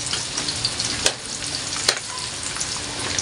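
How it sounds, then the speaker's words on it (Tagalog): Kangkong (water spinach) sizzling and frying steadily in a pan for adobong kangkong, with a couple of sharper stirring scrapes against the pan, close and continuous, no voices. "Gigisa ko muna po yung kangkong."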